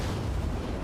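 A loud, dense explosion from the video game Dying Light 2 fills the moment, a thick rumbling roar with no clear onset, close and heavy throughout.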